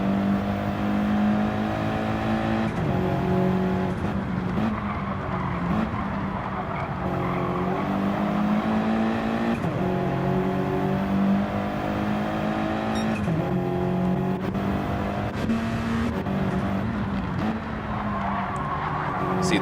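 Race cars lapping Watkins Glen in a Gran Turismo racing game, engines droning and revving steadily with pitch shifts through gear changes and occasional tire squeal, loud and continuous under faint commentary.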